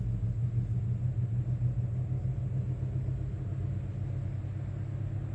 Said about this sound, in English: Just a car that sounds like it's just falling apart.